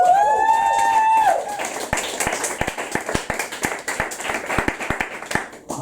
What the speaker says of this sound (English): More applause for Sam Lewtos.